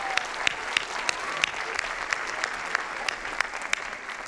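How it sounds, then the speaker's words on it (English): Applause for young letter writers at a children's book awards ceremony: a steady patter of many hands clapping, moderately distant and fairly soft, with a few sharper claps standing out and no talking. "let's give those amazing letter writers a wonderful round of applause"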